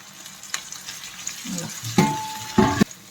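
Green chilies, ginger, garlic and tomato fry in a pan for chicken gravy, giving a steady soft sizzle that swells into two louder bursts of frying as the pieces hit the hot oil or get stirred.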